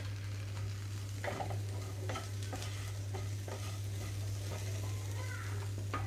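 Raw banana (aratikaya) fry cooking with spice powders on a low flame in a pan, a continuous soft sizzle with occasional stirring scrapes and a constant low hum underneath.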